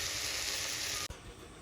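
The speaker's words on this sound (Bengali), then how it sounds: "হালকা একটু জল দিয়ে দিলাম, তাহলে মশলাটা আরও সুন্দর ভাজা হবে" Spices and tomatoes in a hot pan hiss and sizzle steadily just after water goes in, a close bright crackling that cuts off abruptly about a second in and then gives way to a quieter simmer.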